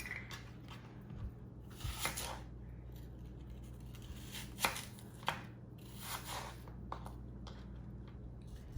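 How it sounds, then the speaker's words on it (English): An apple is cut into small slices with a knife, giving a few soft, close clicks and taps against a board over a low steady hum, with no talk. "I'm going to start cutting my apple. And you just need to cut them in small slices."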